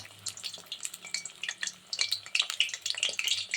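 Batter-coated green chilli pakoras frying in oil over a low flame, a quiet, busy crackle of small pops and spits that grows denser toward the end, with no talking.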